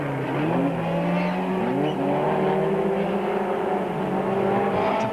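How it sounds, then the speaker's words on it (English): Two Ford Courier bakkie racing cars accelerate hard on a circuit, their engines roaring loudly and continuously with rising revs, close by and without talk. "Paulo and then Claudio whipped past the super special, with more slower traffic ahead of the pair of Ford Couriers."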